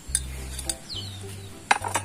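A metal spoon clinks and scrapes against a container while trigona stingless bee honey is harvested outdoors under overcast skies, giving a few sharp close taps over a low steady hum.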